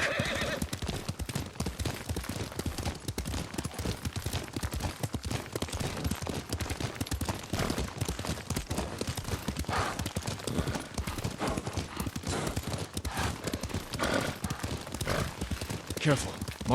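In the video game Ghost of Tsushima, a horse gallops with rapid, continuous clip-clop hoofbeats and neighs, while characters talk over the riding and brief bursts of gunfire-like noise break through.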